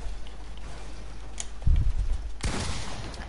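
Gunfire in the Fortnite video game, a short burst of shots and then a louder sharp blast, heard close over faint background ambience without speech.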